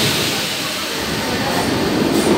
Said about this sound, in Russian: Уезжает этот поезд.